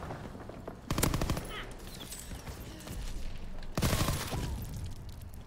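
Gunfire in a WW2 shooter game, shotgun blasts and rapid shots crackling in two loud dense bursts separated by a quieter stretch of background game noise.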